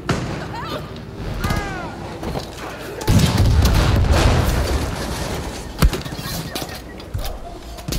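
Heavy handheld machine gun firing in the Far Cry video game, bursts of booming shots with thuds and a loud crack, mixed with other game sounds.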